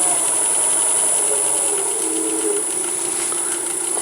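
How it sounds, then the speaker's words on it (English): A wooden seam ripper handle held in pin jaws is drilled slowly on a wood lathe, giving a steady, loud, close machine hum with a high whine that runs the whole time. "Alright, here we go, ready to drill this."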